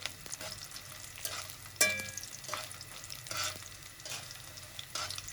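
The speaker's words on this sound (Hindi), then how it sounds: "ये देखें, घी हमारा गरम था, फौरन ही हमारी गोंद फूलने लग गई है" Edible gum (gond) fries in hot ghee over a low flame with a soft, steady sizzle and crackle, broken by a few stirring clinks and scrapes, without talking.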